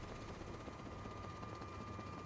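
Helicopter circling over the sea during a search and rescue, a steady distant rotor drone with a constant low rumbling thrum, fairly faint and continuous.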